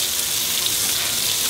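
Potatoes and bacon fry in a hot pan as the bacon renders, giving a steady, bright, hissing sizzle throughout, close and fairly loud with no talk.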